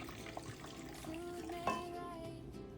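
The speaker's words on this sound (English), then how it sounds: "we're going to take some of this pickle juice, if I can pour it out without making a mess" Pickle juice pouring from a jar, a quiet trickling liquid flow with small splashes and one brief clink partway through, heard alone.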